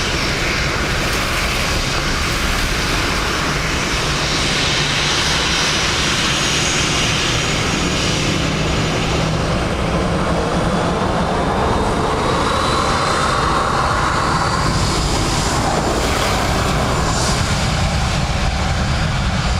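Aircraft engines roar continuously at Dublin Airport on a wet day, a loud, steady broadband rumble with a jet whine that rises and swells near the middle.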